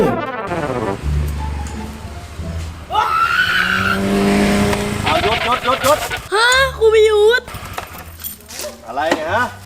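A car is revved and driven hard on school grounds, making loud engine roars and tire screeches, mixed with raised, shouting voices.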